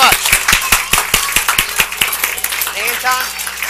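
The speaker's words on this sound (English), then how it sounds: "Another big round of applause" A small audience at a magic show claps steadily for a volunteer, with distinct, fairly close claps in a quick even rhythm that thin out as a voice starts speaking near the end.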